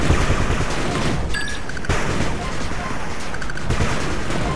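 Machine gun turret firing in the PC strategy game 8-Bit Armies, a dense steady crackle of gunfire and battle noise running throughout, with brief metallic pings, under someone talking.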